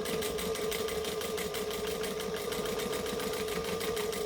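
A sewing machine stitches and backstitches a bag at top-stitch length, humming steadily and quickly with an even rapid rhythm throughout, close and alone.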